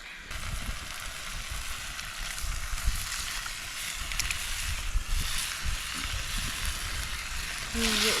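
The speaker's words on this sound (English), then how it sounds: "Got one more ingredient, some diced tomatoes to put in." Diced tomatoes go into a hot pan of vegetables at a Queensland outback free camp, giving a steady, close sizzle and frying hiss that runs throughout with faint stirring, and no voices.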